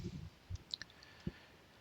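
A few quiet, sharp mouse clicks, spaced apart, in an otherwise near-silent room.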